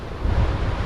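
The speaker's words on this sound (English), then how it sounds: "the sea breeze here in your face out there" Strong sea breeze buffets the microphone on a boat out at sea, a loud rumbling low gusting roar with waves faintly underneath, no voices.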